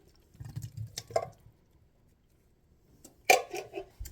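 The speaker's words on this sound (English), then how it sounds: "you're going to pour in 2 cans of yams," Two cans of drained yams go into a casserole dish in soft, wet plops and clunks, two brief quiet bursts separated by near silence.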